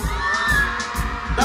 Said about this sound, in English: I'm a beautiful lady, can you scream for me, please?